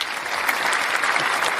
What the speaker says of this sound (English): I even got a live audience applause for you.